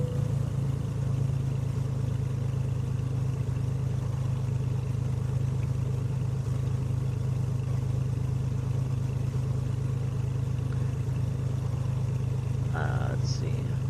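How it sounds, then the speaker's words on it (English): In the Prepar3D flight simulator, an aircraft engine is throttled up to about 1500 RPM for taxiing, giving a loud, continuous low drone with a steady hum that runs unbroken for the whole stretch. "I'm gonna advance the throttle to about 1500 RPM, just so I can move this aircraft"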